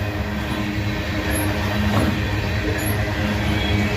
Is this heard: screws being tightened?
no